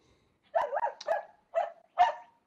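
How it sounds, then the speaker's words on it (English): Dogs bark and yip at home during a remote video interview, several short, close barks in uneven bursts against near silence. "The dogs are biting."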